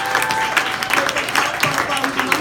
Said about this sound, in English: Please give another round of applause for Nicole for putting this together.